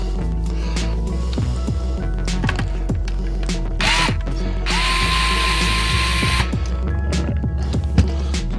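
A power drill driving and backing out screws, with bursts of whirring motor, ratcheting clicks and a sustained high-speed run, close and loud over a constant low mechanical hum.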